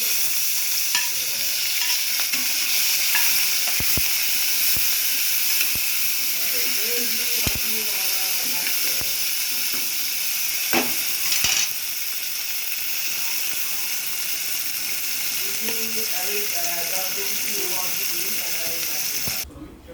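Tomatoes frying in a pan of oil for dal fry, a steady loud hiss and sizzle with stirring clatters and a faint voice underneath now and then.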